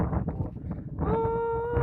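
Cattle low out nearby in one sustained, clear moo rising over outdoor rustle and wind.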